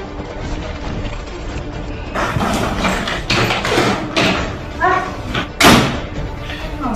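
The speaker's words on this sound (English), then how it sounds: "Please, close the door." A house door is pushed shut during a heated domestic argument in a Nigerian drama scene, giving a firm slam or thud amid agitated voices and room noise.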